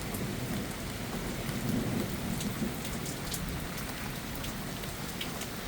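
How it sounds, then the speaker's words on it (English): Steady, fairly loud rain falling after a severe thunderstorm has moved off to the east, a dense continuous patter on surfaces with no voices. "Now we're just in the rain part."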